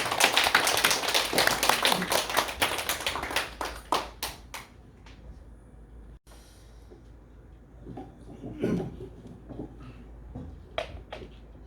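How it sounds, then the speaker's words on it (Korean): A church congregation claps to welcome the pastor at a Sunday service, with loud, dense applause for about five seconds that fades into scattered taps, shuffling and a few isolated claps. "우리 최 목사님 나오실 때 우리 박수로 환영하도록 하겠습니다"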